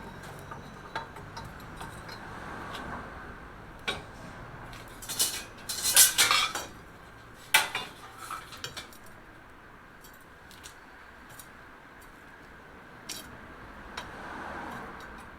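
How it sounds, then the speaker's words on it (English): Metal scraping and clinking around a cast-iron Dutch oven on an outdoor pit as hot coals get pushed aside, a brief burst of bright scrapes midway, a few scattered clinks later, over steady outdoor background noise. "push all them coals to the outside of the Dutch oven."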